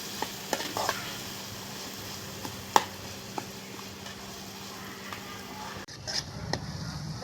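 A spoon stirs tomatoes, salt and green chillies in a pan: soft scraping strokes and light knocks against the metal over a low, steady sizzle, close and fairly quiet.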